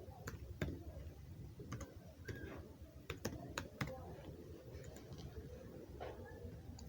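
Keys tap on a computer keyboard while entering text for a Photoshop poster design, a quiet close run of sharp, irregular clicks in small bursts with pauses.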